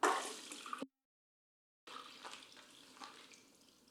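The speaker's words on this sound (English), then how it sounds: "Then add it into the wringer." Spin mop pushed into the wringer of its water bucket: a wet slosh and drip, a short gap of silence, then quieter watery rustling and small knocks close by.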